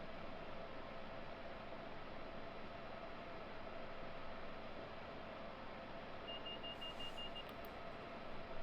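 A train cab alerter on a Washington-Baltimore locomotive gives one brief, faint electronic beep over a steady hiss of cab and engine noise.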